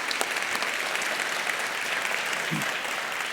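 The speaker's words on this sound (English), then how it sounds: "So please, a big round of applause for all the youth that participate in it." A State of the City audience claps for participating youth, dense and sustained applause filling the room at steady volume, with a brief low voice surfacing near the end.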